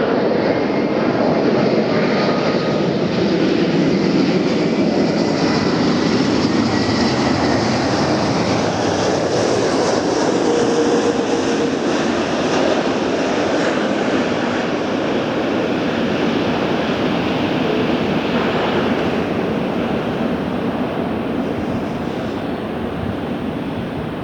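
An Airbus airliner at LAX in warm afternoon air, its broad, steady jet roar filling the scene at close range, loud and continuous with no voices over it.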